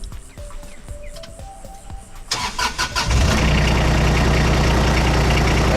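A farm utility vehicle's engine cranks with rapid starter clicks, then catches and settles into a loud, steady idle rumble close by, with no talking.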